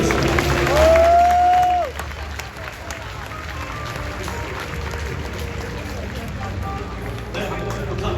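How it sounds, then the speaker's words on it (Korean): A stadium crowd applauds at a baseball retirement ceremony, a steady distant wash of clapping after a brief whistle-like tone, with an announcer's voice at the start. "다시 한번 큰 박수 부탁드리겠습니다."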